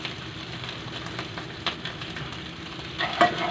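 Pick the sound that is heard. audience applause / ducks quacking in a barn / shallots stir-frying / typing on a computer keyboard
shallots stir-frying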